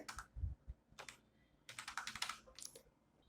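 Typing a date on a computer keyboard while filing a quarterly GST return: bursts of quick, close key clicks in short clusters with brief pauses between them, no talking.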